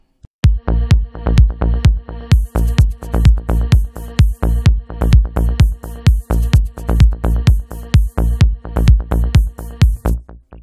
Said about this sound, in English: It's just a percussion loop.